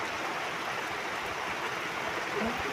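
Heavy monsoon rain in Kandhamal, Odisha, a steady dense broadband hiss of downpour holding at even loudness throughout, close and enveloping, with no voices.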